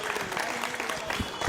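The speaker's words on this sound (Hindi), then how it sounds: "एक बार जोरदार तालियां" A crowd at a stage event in India bursts into applause, a dense, continuous clatter of many hands clapping, moderately distant and lasting briefly.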